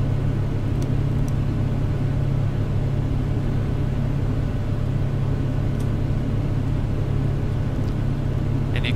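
Steady, loud drone of a small aircraft piston engine held at 2100 RPM with 23 inches of manifold pressure, a constant low hum filling the whole stretch with no speech.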